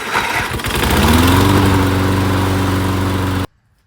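A worn lawn mower engine sputters to life and settles into a loud, close, steady chugging run for a few seconds before cutting off abruptly.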